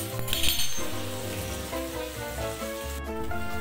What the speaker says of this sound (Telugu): ఇక్కడ రొయ్యలు అయితే ఉడుకుతూ ఉన్నాయి, ఉడుకుబట్టినాయి